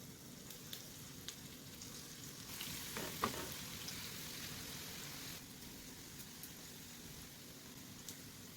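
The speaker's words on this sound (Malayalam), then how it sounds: "ഓയിൽ ചൂടായി വന്നിട്ടുണ്ട് അപ്പം ഫ്ലെയിം ഒന്ന് മീഡിയത്തിലേക്ക് ഇട്ടിട്ട് നമ്മൾ മിക്സ് ചെയ്ത് വെച്ചിരിക്കണ സബോള കുറച്ച് കുറച്ചായിട്ട് ഇട്ട് കൊടുക്കാം" Onion pakoda batter frying in hot oil over a medium flame, a steady crackling sizzle with a brief louder burst of bubbling partway through, close and alone without talk.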